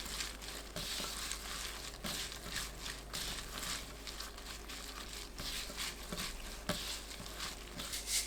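Wet, crinkly mixing of seasoning paste with onion, Cheongyang chili pepper and chives for tomato sobagi kimchi, a soft continuous squelching and patter of stirring heard close and quiet, with no talking.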